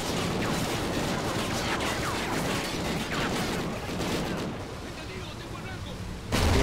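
Gunfire in the Call of Duty: Ghosts video game, a dense barrage of overlapping shots and booming blasts rumbling continuously, easing slightly before a sharp louder burst at the end.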